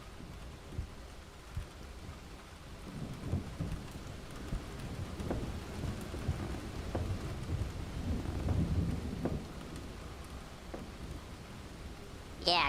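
A thunderstorm with steady rain and rolling rumbles of thunder building and fading throughout, fairly loud and continuous, with a brief word spoken over it.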